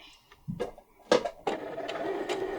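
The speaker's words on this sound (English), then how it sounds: "So we're going to sew right around in one whole circle." A sewing machine stitches slowly around a curve on a fabric pumpkin, running in short stop-start bursts of mechanical whirring and clatter with quiet pauses between them.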